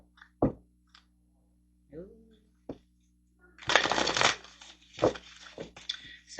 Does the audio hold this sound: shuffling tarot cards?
yes